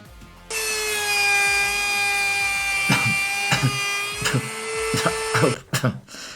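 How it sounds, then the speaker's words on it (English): A jigsaw cuts through wood for a round ocean-themed charcuterie board, its steady high whine running for several seconds with rhythmic chattering bursts as the blade struggles, then stopping near the end with a few clunks. "we are packing out our trusty jigsaw and struggling our way through this cut"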